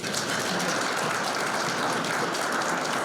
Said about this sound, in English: All in favor of the nominees, please signal by applause.